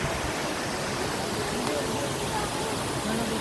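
Water rushing at a river dam, a dense steady roar of flowing water filling the whole moment, close and constant.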